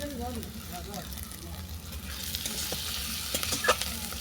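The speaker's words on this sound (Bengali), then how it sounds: "মশলাটা ভালো করে কষিয়ে নেওয়ার পর দিলাম কুচানো ধনেপাতা।" Spice paste with chopped coriander being stirred and fried in a pan: a steady sizzle with scraping and clinking spoon strokes, under a voice talking at the start.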